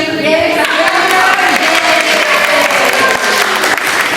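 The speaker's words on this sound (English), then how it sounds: "would you give a round of applause to the team?" A crowd claps enthusiastically in a dense, continuous burst of applause that stays loud throughout, with a few voices mixed in.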